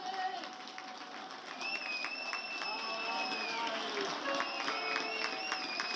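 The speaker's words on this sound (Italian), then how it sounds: "Applausi lo stesso per Alessandro Lamesta" Applause and crowd noise at an Italian Serie C football match, Giana Erminio vs Vicenza, fill the background, steady and distant, while an Italian commentator talks over it.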